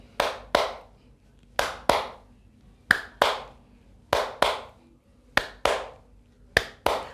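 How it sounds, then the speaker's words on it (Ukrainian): Hands clapping in a simple rhythmic warm-up exercise: crisp, close claps in pairs repeating at a steady pace, six pairs with short quiet gaps between them, no talking. "Ми будемо плескати в долоні два рази"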